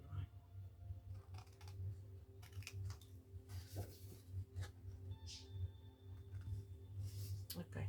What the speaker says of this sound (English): I'm going to cut on the score line